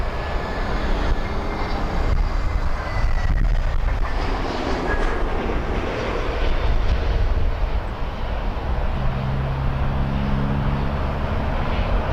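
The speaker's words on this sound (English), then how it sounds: "Inbound, Azores 321 Neo from Ponta Delgada, flight 323" An Azores Airlines Airbus A321neo arriving at Toronto Pearson gives off a broad, steady jet roar that holds loud and constant throughout, with low rumble underneath and no voices.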